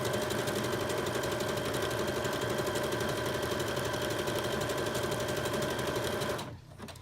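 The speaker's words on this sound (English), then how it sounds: "keep your foot on the pedal, and when the machine is done, it will stop stitching" Sewing machine stitching a big quilted bag, running at a steady fast rhythmic chatter for about six seconds before it abruptly stops.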